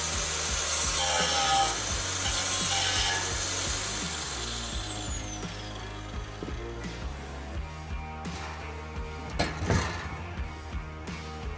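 A power tool cuts through a car's stainless cat-back exhaust pipe, a steady close grinding buzz that wavers and fades in pitch, followed by scattered knocks and a sharp clunk near the end.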